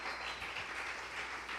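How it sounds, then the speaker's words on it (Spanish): Faint applause from a congregation at a Spanish-language church service, a short, steady wash of clapping without voices. "Denle otro aplauso bien fuerte al Rey bendito."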